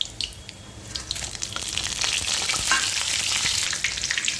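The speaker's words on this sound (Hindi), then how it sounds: "अब इसी में हम डाल देते हैं ½ टीस्पून जीरा, और जो हमने मसाले रखे थे सूखे, हम उसे भी इसमें डाल देते हैं।" Cumin seeds and dry spices hit hot oil in a pan for chhole, a bright, crackling sizzle that swells and stays loud and continuous, with faint stirring underneath.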